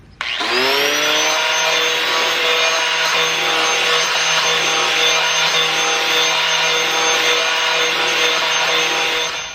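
Power tool cutting away part of a car's inner wheel well during body and paint repair, a loud steady whine with a constant pitch running almost continuously from start to finish, close up and without talk.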